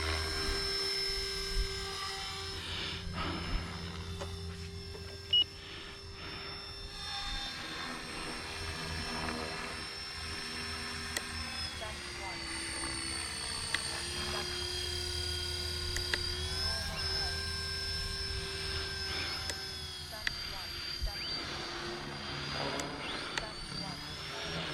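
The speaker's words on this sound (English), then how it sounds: "It sounds like a real heli when it's flying up in the air." An RC helicopter flies nearby with a steady high-pitched rotor and motor whine that rises and falls slightly as it maneuvers, while someone talks over it.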